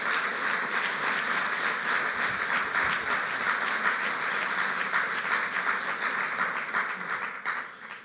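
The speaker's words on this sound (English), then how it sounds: "Ladies and gentlemen, please give it up for Daniel and Sylvie and Boniface and Fatima and Pardeep, my fellow awardees." An audience applauds award recipients at the 2017 Common Ground Award ceremony, with steady, sustained clapping from a large crowd that holds for about eight seconds before tapering off.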